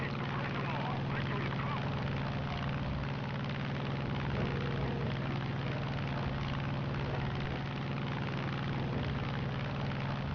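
A propeller-driven Spitfire in the War Thunder game hums and drones steadily in a dive, a continuous even engine roar with no breaks.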